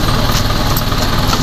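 Isuzu 4HJ1 diesel engine idling after repair of low power and hard starting, a steady close rumble with an even, continuous drone and no talk over it.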